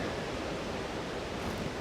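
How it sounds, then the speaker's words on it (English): Wind at a steady 20 mph roars through trees along the South Downs Way, a loud, continuous broadband rush with no pauses and no voices. "These trees blasting away, you can hear them roaring."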